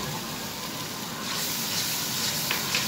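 Tomatoes and coriander powder hit a hot pan of frying garlic-ginger paste, producing a steady close sizzle that swells louder after about a second, with brief hissing spits near the end and no voices.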